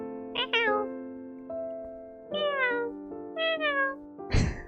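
A person's voice imitates a cat, giving several drawn-out meows in a row with short pauses, ending in a breathy, noisy burst.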